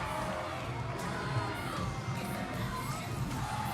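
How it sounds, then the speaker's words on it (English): Packed arena crowd at the Cheerleading World Championships cheers and shouts along during a routine, a loud continuous roar of many voices with whoops and yells rising above it. "you can hear everyone in the crowd cheering along."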